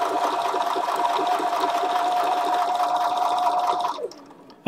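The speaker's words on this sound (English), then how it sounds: "I'm just going to stitch a quarter inch away from the raw edge of the fabric all the way around" A Bernina sewing machine runs steadily while stitching appliqué fabric a quarter inch from the raw edge, a close, even motor hum with a rapid needle rhythm lasting about four seconds before it stops abruptly.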